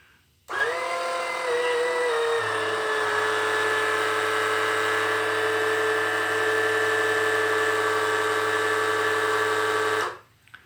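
An electric oil suction pump draining generator oil starts abruptly, runs as a steady high motor whine with a slight pitch drop at startup, then cuts off after about ten seconds.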